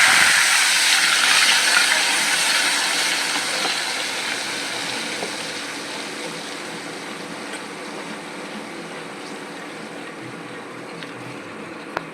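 Chopped tomato hits hot oil already tempered with asafoetida and garlic, letting out a strong hiss that slowly fades to a quieter, steady sizzle over several seconds.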